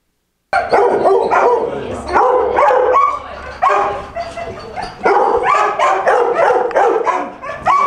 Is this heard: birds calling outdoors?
no